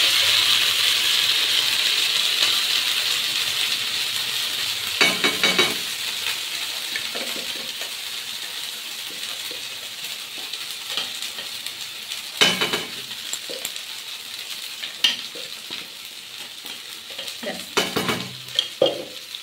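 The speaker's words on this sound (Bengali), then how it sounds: "তো এটা গরম হয়ে যাওয়ার পরে আমি এই যে পেস্ট করে রাখা মটরশুঁটিটা" Pea paste fried in hot oil in a pan, giving a steady loud sizzle that slowly eases, with scraping stirs and occasional clinks of a utensil against the pan at intervals.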